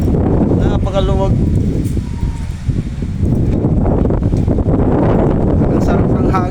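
Steady wind on a house terrace buffets the microphone with a constant roar, loud and close throughout, with brief faint background sounds.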